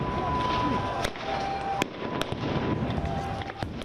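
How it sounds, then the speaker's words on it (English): Stun grenades fired by Israeli forces at worshippers inside a mosque compound, with several sharp, loud blasts at irregular intervals over a steady roar of crowd noise and shouting. "Israeli forces firing rubber-coated steel bullets, tear gas and sound bombs at Palestinian worshippers"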